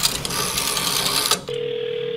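A video game telephone rings with a rapid bell-like trill that stops, then a steady electronic tone follows, close and clear.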